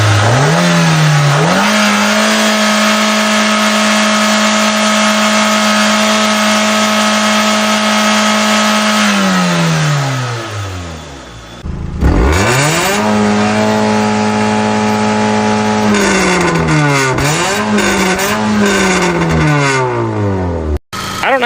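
A Nissan engine with maple syrup in it runs hard, holding a loud steady high rev before dropping off and stumbling, then revving back up in uneven surges, close and loud with no voices.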